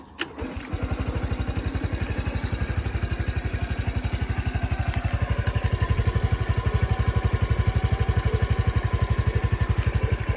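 A 2016 Honda Cross Cub 110 with a fuel-injected engine fires up after a brief clatter and settles into a close, steady, evenly pulsing idle that continues on its own.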